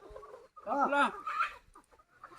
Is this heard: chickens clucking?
yes